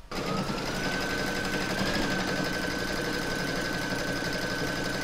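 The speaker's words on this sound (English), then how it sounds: "You're now going to pop that into your machine and stitch round number 2, and that's going to secure the fabric and batting in the hoop." An embroidery sewing machine stitches fabric and batting held in a hoop, giving a steady, fast mechanical whir with a constant tone running close and uninterrupted throughout.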